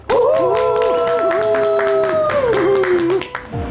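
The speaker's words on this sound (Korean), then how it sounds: "큰 박수로 모시도록 하겠습니다" Loud audience clapping welcoming a professor to a lecture stage, a busy crackle of hands beneath a sustained melodic music line that fades out near the end.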